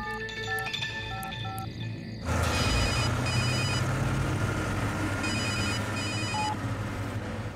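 A telephone rings in repeated electronic trills, loud and close, over a dense background of music and rumbling noise in a Hindi action film scene.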